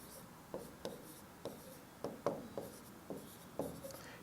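Chalk or marker taps and short strokes on a classroom board as a math ratio is written, a series of quiet, irregular ticks close to the mic with no talking.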